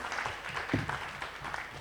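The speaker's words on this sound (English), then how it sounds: "I think they deserve a big round of applause." A crowd applauds steadily throughout, a dense patter of many hands clapping at moderate volume, with no clear voices rising above it.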